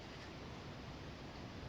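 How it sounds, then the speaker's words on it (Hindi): Water falls continuously in Minecraft as a faint, even rushing noise, like a distant small waterfall, steady throughout with no talk. "ये नीचे जा पानी गिर रहा है"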